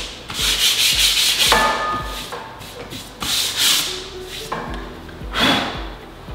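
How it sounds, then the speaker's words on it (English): Sandpaper worked back and forth over a wooden joint on a chevron-pattern shiplap wall, giving loud close rhythmic rasping strokes in several bursts with short pauses and no talking. "So I'll just hit this with some sandpaper."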